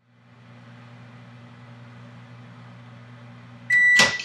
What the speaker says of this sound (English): I'm going to stick in the microwave